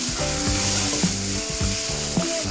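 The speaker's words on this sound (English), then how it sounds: "And also I'm going to add 1 tablespoon of garlic ginger paste." Garlic ginger paste frying in a pan, a bright continuous sizzle with repeated scraping stir strokes, close and fairly loud with no talk.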